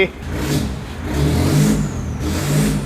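A modified Isuzu engine revs hard at close range in a tuning shop, climbing and easing in repeated surges over a steady idle, with voices talking over it.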